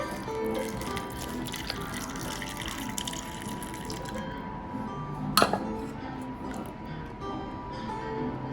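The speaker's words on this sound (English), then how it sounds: "We take our broth and pour it over." Broth pours and drips steadily into a bowl of vegan mushroom and tofu dumplings, with a brief clink of dishware partway through and faint background noise.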